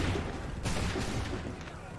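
A musket volley cracks out in a single loud burst on an Assassin's Creed 3 battlefield, over a dense rumbling background of battle noise.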